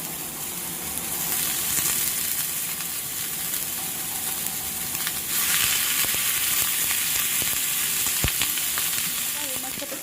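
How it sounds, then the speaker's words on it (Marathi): Grated coconut, onion, ginger and garlic roast in hot oil in a pan, giving a steady close sizzle and crackle with occasional stirring scrapes and brief clinks throughout, no voices. "खोबरं कांदा अद्रक लसूण मस्त हा भाजून घ्यायचा आपल्याला तेल टाकून घ्यायचं"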